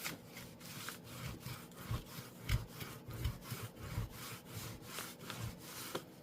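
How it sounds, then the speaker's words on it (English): A burnishing tool rubbed back and forth over paper on an index card, giving a steady series of rhythmic scraping strokes, close and fairly quiet, with no talking. "So let me get my tool here and burnish this down."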